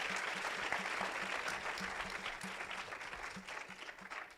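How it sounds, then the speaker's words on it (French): An audience at a poetry prize ceremony applauds continuously, a dense wash of many hands clapping at steady volume, with a faint rhythmic thump running underneath. "on peut encore l'applaudir"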